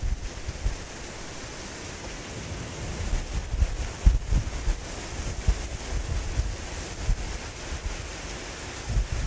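Heavy storm rain pours down sideways amid strong gusts over North Texas during a tornado watch, a steady loud broadband rush with wind buffeting the microphone in low thumps throughout, no voices.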